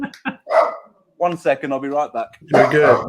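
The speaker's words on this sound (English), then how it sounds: "oh, that's my dog. That's my dog." A pet dog named as the speaker's own barks in a few short bursts close by, interleaved with someone talking live in a room.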